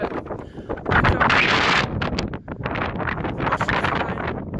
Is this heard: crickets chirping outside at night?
no